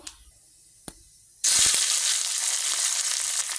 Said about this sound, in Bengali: তেলে তো টমেটো কাঁচা লঙ্কা আর পেঁয়াজ দিয়ে দিব